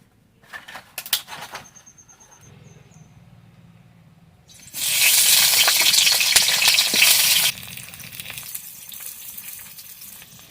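Cauliflower florets are dropped into hot oil in a village kitchen, setting off a loud, bright sizzle that bursts up suddenly and holds for a few seconds. Quieter clatter and soft frying come before and after it.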